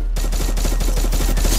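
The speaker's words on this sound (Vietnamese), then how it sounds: "Cái súng này em bắn cho anh." Gunfire in the Free Fire video game rings out as a rapid, loud burst of automatic shots in a steady rhythm, close and dense, with no voices over it.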